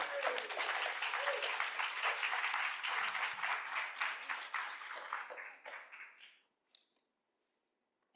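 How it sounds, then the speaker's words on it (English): Round of applause from a panel audience, dense clapping that stays steady for several seconds, then thins to a few scattered claps and fades into near silence. "please do give them all a round of applause"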